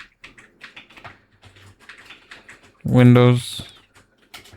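Quick light keystrokes tap away on a computer keyboard in a steady irregular patter, close and fairly quiet, broken midway by a short spoken word over the clicking.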